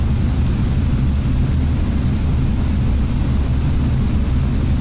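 Steady, loud broadband engine drone of a C-101CC jet trainer cruising in level flight in the DCS flight simulator, an unbroken roar with no gaps or talk.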